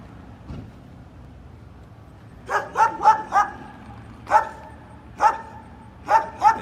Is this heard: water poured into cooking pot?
no